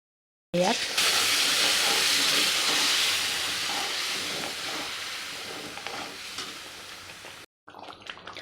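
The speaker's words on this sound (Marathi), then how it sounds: "आपण हळूहळू गरम पाणी सोडूया" Hot water slowly poured into roasted masala for a patodi aamti, giving a loud, steady steaming hiss and sizzle that fades gradually before a brief break near the end.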